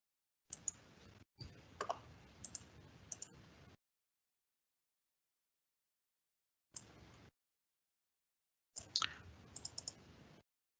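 Computer mouse clicks come in short bursts of quick, faint clicking, split by long stretches of silence, with no talk.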